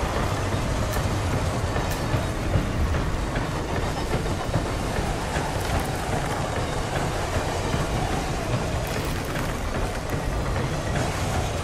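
Train rolling steadily along rails in the video game Hitman 3, a constant loud rumble with rhythmic wheel clatter and faint metallic squeals throughout, no voices.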